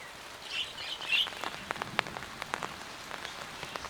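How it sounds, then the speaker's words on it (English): Heavy rain falls on a greenhouse, a steady patter of drops on the surface with sharper individual taps. A bird chirps faintly in the background. "Today will be filled with sudden showers."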